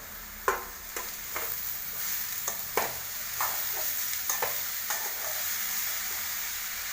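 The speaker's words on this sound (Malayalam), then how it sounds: "അരിഞ്ഞു വെച്ചിരിക്കുന്ന കായ അതിനകത്തോട്ട് ഇട്ട് കൊടുക്കുക." Chopped raw plantain tipped into a hot pan and stirred while making kaathoran, giving a steady sizzle with a series of sharp spoon-and-pan scrapes spaced through the seconds, close and clear with no talk.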